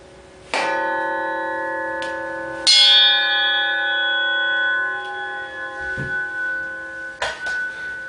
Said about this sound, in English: this blade is very wide and very big, and it sounds like a bell when knocked on